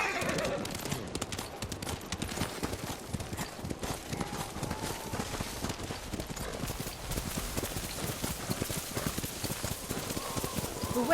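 Horse hooves clip-clopping steadily while riding through snowy, worsening weather in the video game Ghost of Tsushima, a continuous rapid rhythmic patter with a brief neigh, layered over a dense windy ambience.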